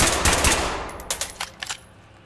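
Gunshots from a firearm in the tactical shooter Ready Or Not, a close, loud volley of rapid shots followed by several separate single shots that trail off, with no talking.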